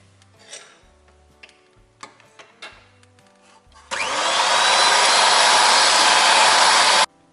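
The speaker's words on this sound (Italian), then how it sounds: "Mentre le fragole stanno macerando, noi ci occupiamo della panna, quindi la andiamo a montare." An electric mixer whips fresh cream for a strawberry tiramisu, starting after a few light clicks and knocks and then running as a loud, steady whir until it cuts off.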